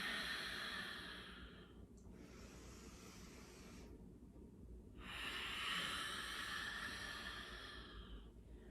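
Slow, soft exhalations during a slow flow yoga session, heard as two long airy breaths close to the microphone with a quieter pause between them, faint and hissy.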